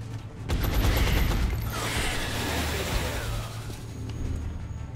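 A rapid burst of automatic gunfire from the XCOM Long War video game crackles loudly, a dense fusillade lasting a couple of seconds before fading into a rumbling wash of game sound.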